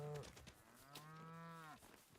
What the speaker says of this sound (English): That's a lot of cows